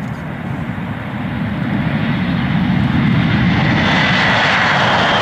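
A loud airplane engine drones steadily, swelling slightly in strength over a few seconds and holding a broad, continuous roar with no talk.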